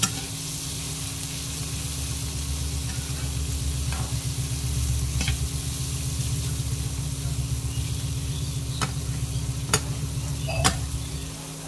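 Vegetables for chow mein frying in a pan, a steady close sizzle with stirring scrapes and a few sharp utensil clinks over a constant low hum, no talking.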